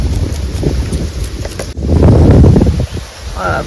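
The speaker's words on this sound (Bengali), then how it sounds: "আর এত সুন্দর হাওয়া দিচ্ছে" Strong wind gusting beside a swollen river after days of heavy rain, a loud, rough buffeting roar that surges midway, with a voice talking over it.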